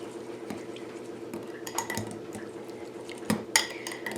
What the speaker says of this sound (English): And we're going to mix that in there